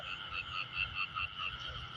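Frogs call in a pulsing, throaty croak chorus that repeats steadily, a few close voices over quiet night ambience.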